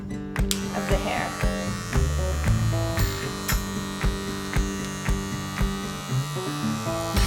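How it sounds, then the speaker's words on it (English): An electric hair clipper buzzes steadily and close while cutting hair around the ear during a men's haircut, its hum pulsing slightly as the blade edges the hairline. "we're just going to curve using the tip of the clipper and just get the edge there of the hair"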